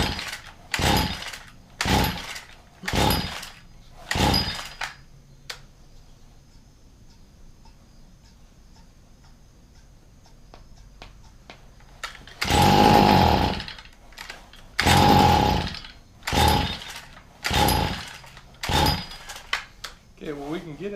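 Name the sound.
gas string trimmer engine running roughly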